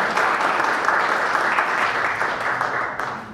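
An audience at a folk and bluegrass music show claps warmly, a loud, dense, steady stream of many hands lasting a few seconds with no one speaking.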